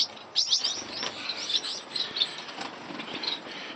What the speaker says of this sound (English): this is my Gouldian finch, all babies